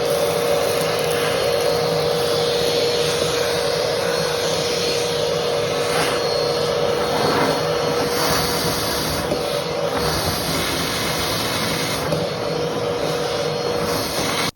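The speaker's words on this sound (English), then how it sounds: "so I used vacuum cleaner to clean up." A vacuum cleaner runs continuously near a bathtub drain, a loud, steady, close motor whine and airflow roar with slight shifts in tone as the nozzle moves, no voices.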